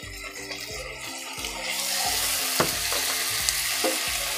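Ginger garlic paste hitting hot oil, a steady sizzle that swells louder partway through, with a few sharp clicks of a utensil and low bubbling underneath, no voices.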